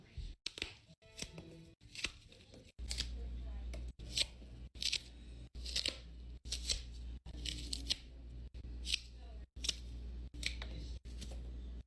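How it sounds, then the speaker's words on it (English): Repeated cutting into a cardboard puppet for DIY fidgets: a steady series of crisp snips and crunchy cardboard cuts, close up and fairly loud, with a low hum underneath and no talking. "I'm just going to cut every hole in this puppet"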